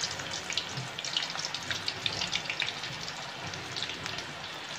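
Vegetarian lunch food deep-frying in oil at medium heat, dropped in as separate pieces: dense, even crackling and spitting bubbles that go on steadily throughout, close up, with no talking.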